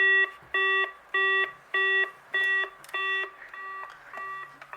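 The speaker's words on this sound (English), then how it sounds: "Let's wait for the beeping to finish." A VTech CS-6858 DECT 6.0 cordless phone beeps after the operator is dialed, with five evenly spaced loud electronic tones followed by softer, fading beeps, heard close and alone.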